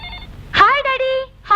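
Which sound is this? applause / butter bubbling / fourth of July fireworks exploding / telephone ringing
telephone ringing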